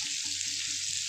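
Taro pieces cut into long strips, like potatoes, sizzle steadily in a hot frying pan, a soft continuous hiss with faint low clinks underneath and no voices.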